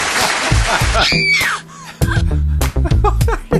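Shrill screams rise and fall in loud, wavering bursts, mixed with yelling voices and a short pause in the middle, as a comic screaming sound effect on a broadcast show.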